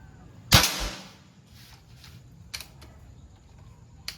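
An air gun fires a pellet at a black steel plate in a grouping test, with one sharp, loud crack near the start followed by fainter clicks and a small snap near the end, with no talk.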